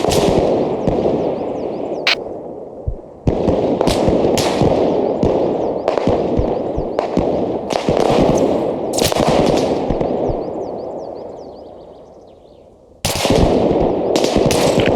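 Sustained team gunfire in the Arma Reforger military video game: rapid, loud bursts of automatic fire, close by. The shooting pauses briefly near the start and again near the end, and no one talks.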